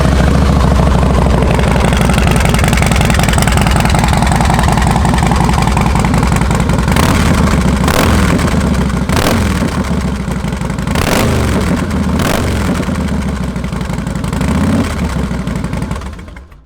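A 2004 Harley-Davidson Fat Boy with under 8,000 miles fires up and settles into a loud, lumpy idle, punctuated by several sharp revs toward the end before cutting off, close and without speech.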